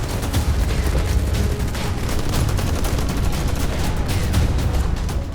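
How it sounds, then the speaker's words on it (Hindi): Heavy, rapid gunfire from Russian soldiers fighting in the village of Klishchiivka near Bakhmut, with dense overlapping bursts of shots that crackle continuously across the whole stretch. "रूसी सैनिक ताबड़तोड़ फायरिंग करते दिखे"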